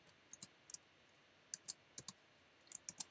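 Code is typed on a computer keyboard in quiet, close bursts of crisp key clicks, irregular and clustered in small groups against a faint background hiss.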